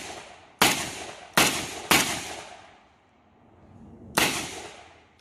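A short-barreled shotgun fires buckshot at steel targets: four sharp, loud blasts, three in quick succession, a pause, then a fourth, each trailing off in a brief echo.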